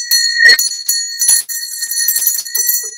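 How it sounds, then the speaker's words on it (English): A hand bell is rung in a shop in several bright, ringing bursts over a few seconds, close and clear, with faint shuffling between the rings. "Do you know how many people come into the store and they go, where's that bell that she rings?"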